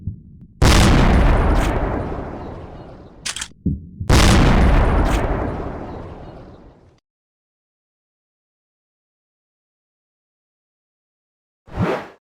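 Sniper rifle shots in a hunting video game, two loud booming reports each followed by a long decaying rumble, then a stretch of silence before a fainter sound at the very end.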